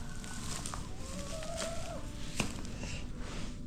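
Backyard hens on an icy winter morning give scattered soft clucks and a drawn-out murmuring call over a low steady background hum, fairly quiet and a little distant.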